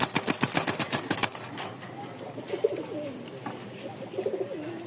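Rajshahi Giribaz pigeons at a small pigeon sale in Mirpur-1 give soft, low cooing calls after a burst of rapid clattering, their coos repeating faintly in the background.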